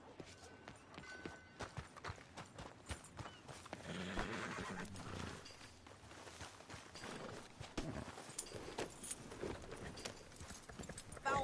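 Horse hooves clip-clopping and a horse neighing in the video game Red Dead Redemption 2, close and clear, with riding hoofbeats and a whinny partway through amid game ambience.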